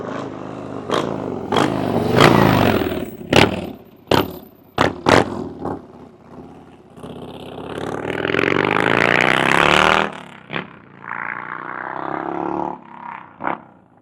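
A 2025 Harley-Davidson Street Bob fitted with a TAB exhaust revs loudly outdoors, with repeated sharp throttle blips and popping bursts, then a sustained roaring rev and more blips as it moves past with wind noise.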